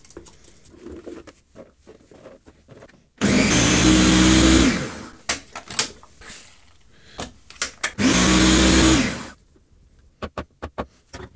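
Two loud bursts of a blender grinding a garlic mash for fermentation, each roughly two seconds long, separated by clattering and knocking of the jug and lid.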